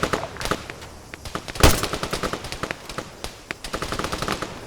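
Machine-gun and rifle fire in the video game ARMA 3, one sharp close shot followed by rapid rhythmic bursts, loud and sustained with no talking.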